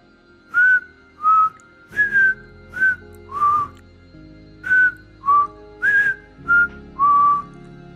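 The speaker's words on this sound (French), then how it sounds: "À exactement 3h03, nous avons entendu le sifflement." Eerie human whistling in a horror setting: about ten short, wavering whistled notes in an irregular sequence, clear and close over a quiet background.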